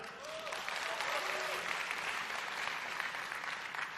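Audience applause fills a hall at an XPeng car launch event, a dense steady clapping that holds for several seconds, with faint voices mixed in.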